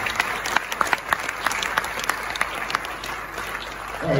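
Audience applause at a forex trading masterclass in a University of Ghana business school hall, a steady spread of many hands clapping from a crowd for about four seconds with no voices.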